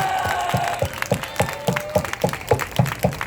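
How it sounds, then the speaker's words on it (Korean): A church congregation claps in a steady rhythmic beat, roughly two to three claps per second, loud and close, with a faint tonal background underneath and no talk over it. "하나님 앞에 영광의 박수를 냈습니다."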